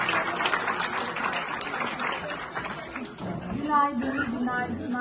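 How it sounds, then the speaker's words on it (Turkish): Applause from a large gathering of Turkish professionals in Frankfurt, Germany, greeting the Turkish consul general: dense crowd clapping fills the first few seconds, then fades as a voice begins speaking over the room. "Alkışlar hanımefendi için buyurunuz."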